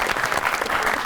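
Studio audience on the Tanz O Maza comedy show claps for a singer, a dense, steady burst of close applause lasting about a second.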